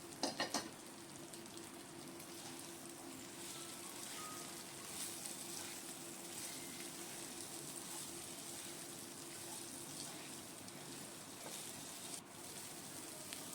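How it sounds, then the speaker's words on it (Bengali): Diced potato chunks cut from a large potato fry steadily in a pan for jeera aloo, a continuous even sizzle with faint stirring, moderately quiet and unbroken throughout with no talking. "তিন মিনিট মতো এরকমভাবে ভেজে নিই"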